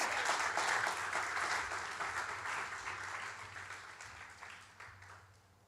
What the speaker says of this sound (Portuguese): Você pode dar uma salva de palmas para Jesus aí?